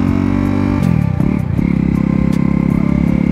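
A KTM Duke 250 motorcycle engine runs loud and close, holding a steady idle thrum, then a quick blip of the throttle rises and dips before it settles back into an even, rumbling beat with no talk over it.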